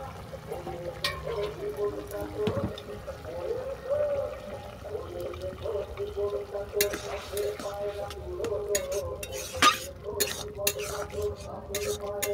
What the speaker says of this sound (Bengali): এর সঙ্গে সরষের জলটাকে দিয়ে দিলাম, অল্পটুকুনি সরষের জল।